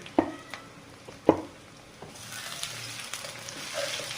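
Garlic is dropped into a pan where green chillies are already frying for a fish and cauliflower dish. A few sharp knocks from the stirring come first, then a steady, soft sizzle builds.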